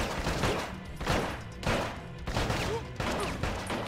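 Repeated bursts of gunfire from the Bad Boys Miami Takedown video game come in irregular, closely spaced volleys over busy game noise, loud throughout with a voice faintly mixed in.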